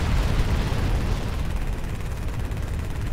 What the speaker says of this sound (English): These machine guns actually suck.